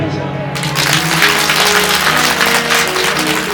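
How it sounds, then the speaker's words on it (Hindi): An audience at a Bhagwat Katha religious discourse gives a strong burst of applause, steady dense clapping that fills the hall, while a sustained harmonium-like tone and some voices continue underneath. "एक बार आपने भी जोरदार ताली बजाई।"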